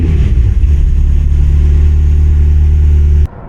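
A McLaren GT's engine pulls hard on a country road with a loud, steady, deep roar that cuts off abruptly near the end.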